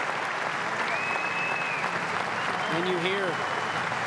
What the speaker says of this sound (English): the arena Zagreb, the claps